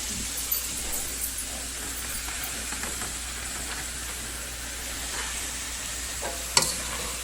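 Tomatoes and corn sizzle in a pan, a steady close hiss with faint stirring scrapes and a brief clatter near the end.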